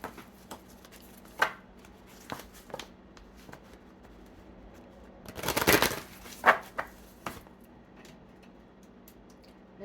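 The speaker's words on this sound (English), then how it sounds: "I'm actually going to just read some oracle cards, and I'm going to try to get 3 of them" Oracle cards being shuffled for a reading: sparse soft riffles and flicks, then a denser burst of card noise midway, followed by a few light taps and slides in a quiet room with no talk.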